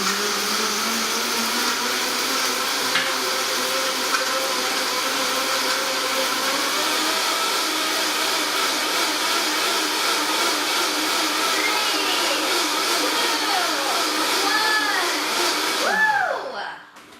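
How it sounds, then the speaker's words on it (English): Vitamix blender whirring through a smoothie, a loud steady motor roar held for about sixteen seconds with rising and falling pitch sweeps near the end before cutting off. "Vitamix is on. Next, we're going to blend"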